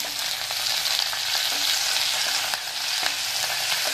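Tamarind and curry leaves fry in hot oil for a roasted white brinjal chutney, giving a loud continuous sizzle with faint stirring scrapes and no talk.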